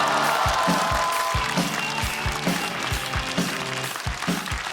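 An audience applauds at a stand-up comedy competition show as a performer is welcomed on stage; steady, dense clapping fills the hall over a loud, regular thumping music beat.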